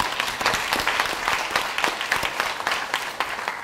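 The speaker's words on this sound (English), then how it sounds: "So let's give her a round of applause." A crowd applauding, dense steady clapping from many hands that carries on throughout without any voices.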